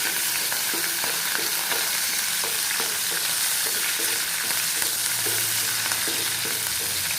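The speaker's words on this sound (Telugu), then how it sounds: "మస్టర్డ్ సీడ్స్ వేసుకొని బాగా వేగాక, సీడ్స్ బాగా వేగాక రెడ్ చిల్లీ, గ్రీన్ చిల్లీ, పచ్చిమిర్చి," Mustard seeds, then red and green chillies, frying and crackling in hot oil while being stirred for a Telangana green gram snack, a steady close sizzle with small rhythmic stirring taps throughout.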